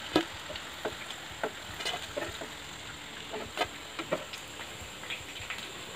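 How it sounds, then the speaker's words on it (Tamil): Anchovy fish bajji deep-fry in hot oil, giving a soft, steady bubbling crackle with scattered pops and light ticks close by, fairly quiet and with no voices. "அந்த சலசலப்பு அடங்கினோடனே மீன் வந்து போச்சுன்னு அர்த்தம்"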